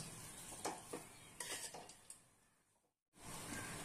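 Maggi noodles being stirred in a pan with white cooking oil, a few soft scraping and clinking strokes over a faint sizzle, then a brief drop to silence before the sizzle returns.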